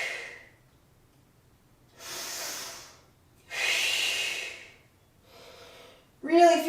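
Slow, deep breaths held through a yoga pose during a spine-flossing practice, made up of several long airy inhales and exhales separated by quiet pauses and ending in a sharper, voiced breath.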